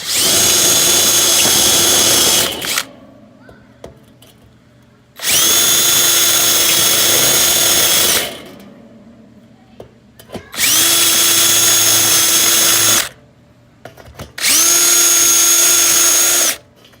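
A power drill fitted with a step bit bores through the lid of a Weber kettle grill, running loud and steady in four long bursts separated by short quiet pauses.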